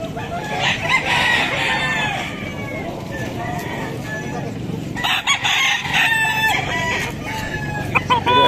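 Chickens cluck and gamecocks crow over a steady outdoor din at a fighting-cock market in Malasiqui, Pangasinan, with voices talking underneath throughout.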